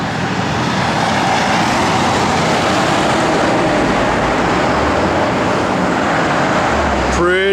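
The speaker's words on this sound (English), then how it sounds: "Good sounding Flowmaster dual exhaust system on it." A 1970 Chevrolet Chevelle SS with a Flowmaster dual exhaust rumbles steadily, a continuous low engine drone that stays at a constant level and ends with a brief sweeping sound.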